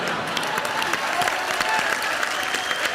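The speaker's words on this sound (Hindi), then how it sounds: "सुषमा सेठ के लिए, श्रुति सेठ के लिए जोरदार तालियां हो जाए।" Television comedy show studio audience applauding two guests, a dense, lively burst of clapping from many hands, close and steady throughout.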